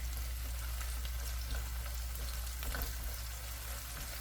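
Garlic and green onion sizzle in a pan over high heat as they cook for japchae, a steady, quiet frying crackle with no talking.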